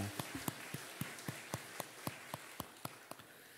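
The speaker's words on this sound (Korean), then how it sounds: "우리 다시 한번 주님 앞에 영광의 박수 올려드리겠습니다" Faint, sparse claps from a church congregation during a Sunday service, landing as evenly spaced single sharp hits in a slow rhythm against a quiet room.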